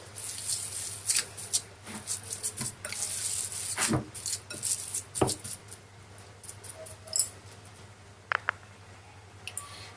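Minced chicken seekh kebab mixture being worked with chopped onion by hand: soft squishy, sticky kneading sounds with scattered clicks and taps, close up against a steady low hum.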